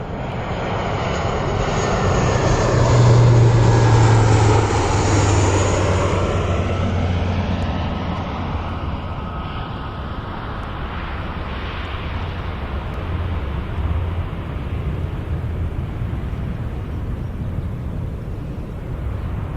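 A propeller aircraft approaches through fog at RAF Mildenhall, its engine drone loud and steady, swelling to a peak early on and then holding as a broad, continuous roar with no voices.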